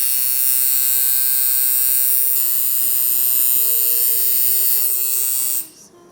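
A coil tattoo machine runs at about 125 hits per second, making a steady, loud, close electric buzz with a constant pitch that cuts off abruptly near the end.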